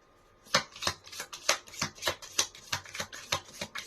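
Tarot cards are shuffled by hand in a steady run of about a dozen crisp riffling strokes, close and fairly loud, with no voices.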